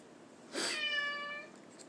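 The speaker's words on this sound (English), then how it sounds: "Shut up, cat" A house cat lets out a single clear, drawn-out meow, fairly close and loud against a quiet indoor hiss, fading after about a second.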